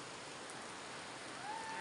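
Steady rain falls beside a pool at a beach resort, a dense, even hiss with no breaks, faint and distant in level.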